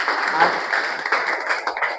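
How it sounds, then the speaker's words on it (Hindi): Steady applause from a crowd, dense clapping filling the whole stretch with some voices mixed in. "जोरदार तालियां होनी चाहिए"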